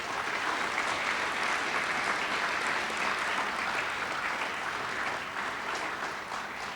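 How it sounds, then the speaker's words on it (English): Audience of community members, students and staff at Marshfield High School applauding themselves at an evening event, a thick, steady wash of clapping that holds throughout and eases slightly at the end. "Would you give yourselves a round of applause for that?"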